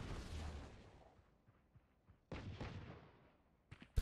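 Brimstone's smoke launch in the tactical shooter Valorant: a hard burst up front fading over about a second, then a second sharp onset with a decaying tail and a few short pops near the end, no talking.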